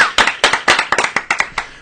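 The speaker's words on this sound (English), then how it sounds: "PGA clap for Gordon Igesund, please." A small group claps in honour of a national football coach, a dozen or so loud, crisp, close hand claps in an uneven rhythm with no one talking.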